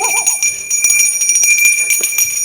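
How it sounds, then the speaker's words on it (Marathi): Bell rung on a stage during a comedy play, a continuous bright ringing that fills the whole stretch at high volume, with a brief warbling tone at the very start. "चल लवकर बेल दे"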